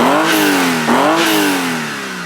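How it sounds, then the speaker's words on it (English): Close up and loud, a car engine revs twice in quick succession, each rise falling back before the next, with no talking. "Give it a good rev though."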